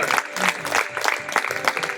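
A church congregation claps and cheers in praise, a brief loud burst of crowd applause with uneven, rhythmic surges.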